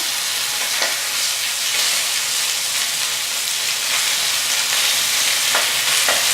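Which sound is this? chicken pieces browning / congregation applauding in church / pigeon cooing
chicken pieces browning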